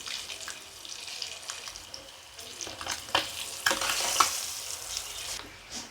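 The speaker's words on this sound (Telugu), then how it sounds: "ఎగ్స్ని ఫ్రై చేసుకుందాం" Eggs frying in a pan with salt and chili powder, a soft low sizzle broken by scraping stirs and a few louder clatters of the spatula, close up.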